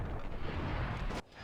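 Dense, loud burst of rapid gunfire in Max Payne's 2001 bullet-time mode, a continuous roaring barrage that cuts off sharply near the end.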